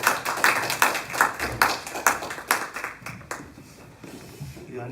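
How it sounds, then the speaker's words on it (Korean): An audience applauds to welcome a pastor stepping up to give a response at a pastoral forum on music therapy, with steady, dense clapping that fades slightly near the end. "우리 나오실 때 힘찬 박수로 환영합니다."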